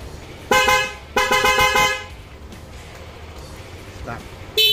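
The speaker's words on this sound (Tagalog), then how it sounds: "So tingnan natin kung gaano kalakas yung busina" A car horn wired through a halo switch and Y-connector sounds twice in long, loud, steady blasts, then goes quiet with a faint murmur before a third blast starts right at the end.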